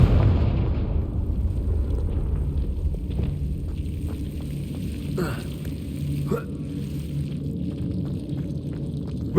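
A Confringo spell explodes in the video game Hogwarts Legacy, a deep rumbling blast that fades out over several seconds, with a few faint crackles and pops afterward.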